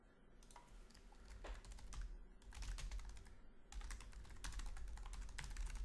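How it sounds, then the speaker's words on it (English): Rapid clacking of a computer keyboard as a URL is typed on a Windows 7 machine, steady bursts of close keystrokes with brief pauses, no talking. "So I type it in,"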